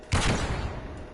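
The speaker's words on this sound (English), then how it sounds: "Flashbang!" A flashbang grenade goes off in the online shooter Call of Duty Cold War during a hardpoint match, one sudden loud blast followed by a rumbling wash that slowly fades.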